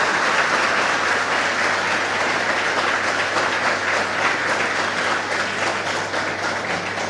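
A lecture audience at a library in Navsari applauds in welcome of the chief speaker, Hasmukh Patel: dense, steady clapping from a large crowd that fills the room throughout, loud and close, with no talk.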